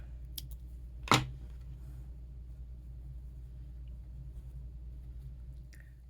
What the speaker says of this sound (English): And now we're going to cut this yarn off.